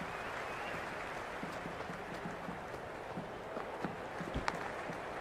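Stadium crowd noise from the Cricket 26 video game during a Lahore Qalandars versus Islamabad United match, a steady broad roar of cheering and applause that holds throughout without obvious peaks.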